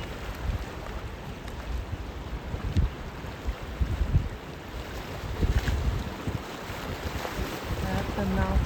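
Pacific Ocean surf rolls in at the mouth of the Smith River as a continuous broad wash of waves, with gusty wind buffeting the microphone throughout.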